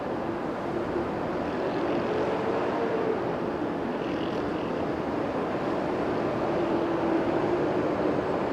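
A Greater Bay Airlines airliner at Okinawa airport, a steady broad engine roar that holds constant throughout, fairly loud and distant, with no talk over it.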